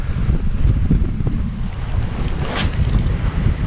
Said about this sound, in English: You can probably hear the wind howling.